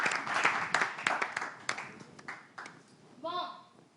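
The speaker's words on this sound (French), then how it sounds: "Applaudissements" An audience at a candidate show applauding for the last candidate, scattered sharp claps that thin out over a few seconds, with a voice coming in near the end.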